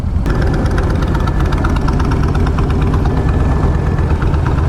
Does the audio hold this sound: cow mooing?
no